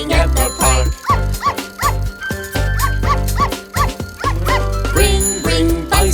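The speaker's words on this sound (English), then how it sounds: "Little dog barks happily" A small dog barks happily in a run of repeated yips over a bouncy children's song in a park scene, with a bicycle bell jingling at the start and end, the barks rhythmic and up front.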